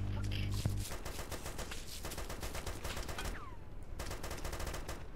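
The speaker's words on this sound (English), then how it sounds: "There is some heavy fire in here. Taking fire from a BMP just north of us outside the tree line." Heavy sustained automatic fire from a BMP armored vehicle in the military game ArmA 2, a dense continuous rattle of rapid shots with a loud booming burst at the start, steady and close throughout.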